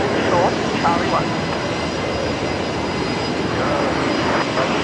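A Virgin Australia Boeing 737-800 on the runway at Brisbane Airport, a steady broad jet roar at a distance, with voices talking over it throughout.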